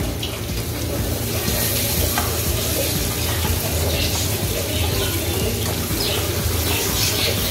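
Vegetable brinji made with jeeraka samba rice frying on a low flame in a cooker, a steady sizzle with scraping stir strokes running continuously and close by.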